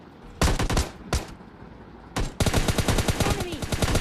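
Gunfire from shooting a bot in PUBG Lite: a few short, loud rapid-fire bursts, then a long sustained volley of fast shots close up, with no talking.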